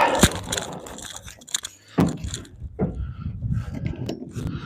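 A person moves around on top of a truck roof, giving irregular metallic thumps and jangling clatter with sharp bangs near the start and middle, close and fairly loud, with no speech.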